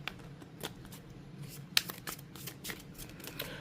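Tarot cards shuffled and drawn by hand, a soft, steady run of crisp riffling flicks with a sharper snap partway through, close and quiet with no talking.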